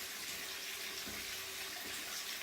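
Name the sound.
bathwater running from tap into bathtub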